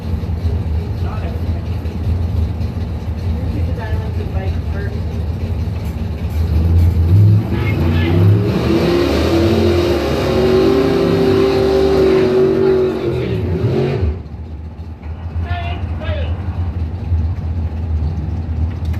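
Mopar drag cars at a bracket racing event, including a '71 Challenger, roar off the line with rising engine revs that sweep upward and fade down the strip, over constant crowd and track noise with a voice in the background.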